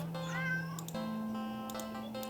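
Cat meowing in the video game Do NOT Take This Cat Home: a few drawn-out, clear meows over a steady low game hum, fairly close and moderately loud.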